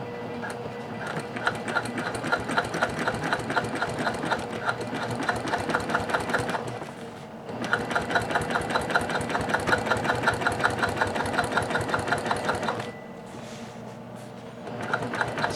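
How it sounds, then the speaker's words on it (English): Sewing machine edge stitching black fabric on a beach tote bag, a fast steady mechanical whir in two long runs with a brief pause between, close and loud. "I'm going to edge stitch this black down right on the edge there."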